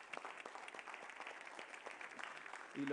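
Audience applause at a debate event, a steady wash of many hands clapping at moderate distance, fairly faint, with a brief low voice or tone near the end.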